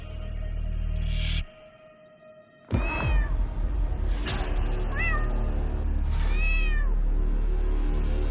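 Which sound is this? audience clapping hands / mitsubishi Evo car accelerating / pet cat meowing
pet cat meowing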